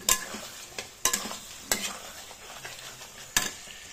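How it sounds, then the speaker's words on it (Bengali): Raw cut potatoes tossed into a hot pan, with sharp scraping and clattering stirs at irregular intervals over a low, steady sizzle, close and without talk. "তো এরপর আমি কেটে রাখা আলুগুলো দিয়ে দেবো"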